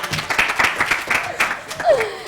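A studio audience applauds on a morning television show, a dense patter of clapping filling the moment while a voice talks over it.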